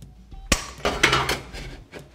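Snips of shears cutting sheet metal for chimney flashing, several sharp metallic crunches and clinks in an irregular sequence, close and fairly loud.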